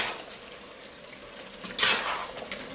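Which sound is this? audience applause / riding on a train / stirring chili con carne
stirring chili con carne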